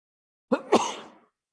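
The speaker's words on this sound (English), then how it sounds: "I'm going to sneeze." A single close, sharp sneeze: a quick intake of breath followed by an explosive burst that trails off, then silence.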